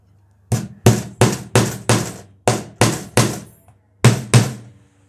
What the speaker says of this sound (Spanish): En esos 2 puntos que tenemos ahí, debe de clavar o colocar 2 tornillos o clavos.